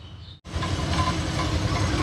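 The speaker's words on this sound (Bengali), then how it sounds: "এই যে টয় ট্রেন চলে এলো" A toy train arrives at the Howrah Rail Museum, its steady, close mechanical rumble and rattle starting abruptly and holding loud and even throughout.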